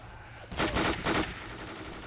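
A burst of rapid gunfire from a weapon in the Left 4 Dead 2 video game, a loud, fast string of shots lasting under a second over a steady game background.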